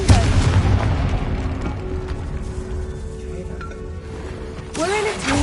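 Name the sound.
Confringo explosion spell cast in a Harry Potter video game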